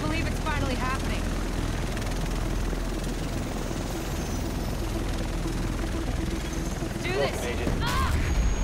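A helicopter in The Division video game drones steadily and loudly throughout, a constant rotor roar with brief sharper bursts of game sound layered on top.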